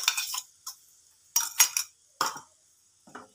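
Masala being stirred into a brinjal (eggplant) curry in a pan, heard as a few separate bursts of spoon scraping and clinking against the metal, close and clear, with quiet gaps between them.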